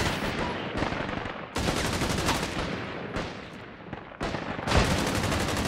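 Bots fire guns in rapid, dense volleys during a PvPvE match of the video game Caliber on the Threshold map, with loud overlapping bursts broken by brief pauses.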